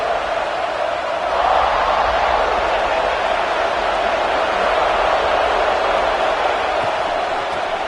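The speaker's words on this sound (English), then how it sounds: "This crowd trying to make life miserable for this offense." A football stadium crowd roars steadily and loudly throughout, a dense wash of noise with no breaks while fans try to rattle the offense.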